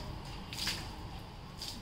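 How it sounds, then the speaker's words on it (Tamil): Herbal bath water poured over a dog's legs makes a continuous close splashing wash, with brief brighter splatters as the stream hits fur and runs off. "அதனால் காலுக்கு தண்ணியை ஊற்றி விடணும்."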